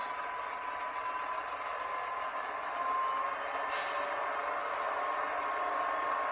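A model GE Tier 4 diesel locomotive's engine, voiced by a Tsunami2 sound decoder, hums steadily, then swells slightly louder partway through as the throttle comes up, with no talking.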